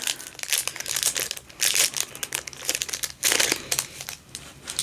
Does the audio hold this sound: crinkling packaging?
yes